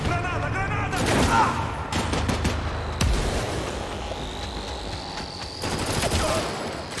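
Gunfire in the CrossfireX video game: a sharp loud burst of shots and blasts, then scattered bangs and a rising whine, with someone talking over the action.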